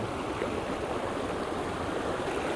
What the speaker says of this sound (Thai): อันนี้ เป็นแก่งเล็ก